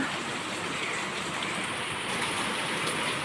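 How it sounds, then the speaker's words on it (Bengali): Steady, continuous rain falls outdoors under an overcast sky, a dense even hiss with no pauses and no voices. "কন্টিনিউয়াসলি বৃষ্টি হচ্ছে, বাইরে বেরোতেও পারছি না"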